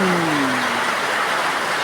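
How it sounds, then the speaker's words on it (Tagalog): Steady rain pouring with a constant hiss, filling the scene; a faint low hum fades early on. "Ulan dito sa amin ngayon"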